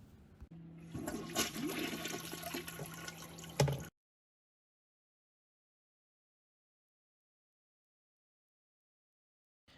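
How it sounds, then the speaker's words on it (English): A toilet flushes loudly and close for about four seconds, a rushing gurgle of water that cuts off abruptly into silence. "We will now demonstrate the noise recognition feature that recognizes flushing."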